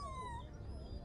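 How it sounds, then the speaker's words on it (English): A puppy whimpers in the horror game House on the Hill, with a faint, thin, high whining cry that wavers and slides downward over a low rumbling background, alone and quiet. "I hate hearing the puppy sounds"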